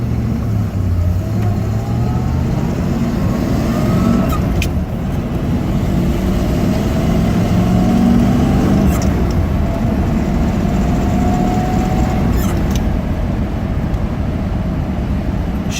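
A 1964 Corvette engine idles while warming up, a loud, steady low rumble running continuously and close, with faint tonal shifts and a few brief clicks over the top.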